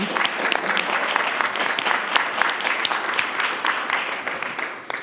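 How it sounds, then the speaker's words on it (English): A room at a transit board of directors meeting breaks into steady applause, many hands clapping densely and evenly throughout, with a faint murmur of voices beneath. "So I'd love to be able to give them a round of applause to show how proud we are of them."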